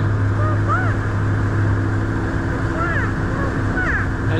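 A steady boat motor drone runs throughout on Okanagan Lake, Kelowna, British Columbia, with birds chirping and calling over it.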